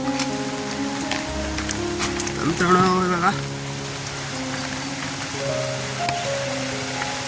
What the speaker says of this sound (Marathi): पूर्ण खाली एकदम पाण्याचा आवाज सुद्धा येतोय ओढ्याला खूप पाणी झालंय